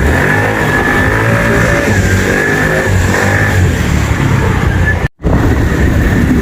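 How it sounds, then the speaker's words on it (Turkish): A 50cc fuel-injected motorcycle engine with a fault that makes it cut out and stall is revved hard while riding, a loud, steady buzzing drone close by, with one brief sharp dropout near the end. "Şöyle bir asılalım motora. Açalım motoru iyice, sıkıştıralım."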